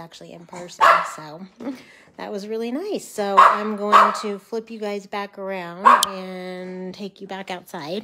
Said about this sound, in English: Sorry for the incessant barking